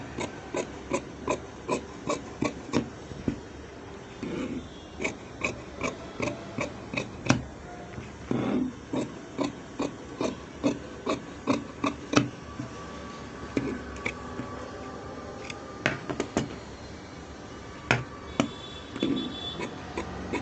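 Scissors cutting through blouse fabric, a steady run of rhythmic rasping snips repeating for about twenty seconds, close and even, with no speech over it.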